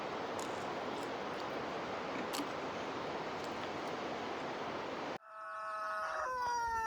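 Chickens kept at a small house with a flower garden on a hill walking trail. A steady rush of outdoor noise gives way near the end to a clear, close rooster crow with drawn-out tonal calls.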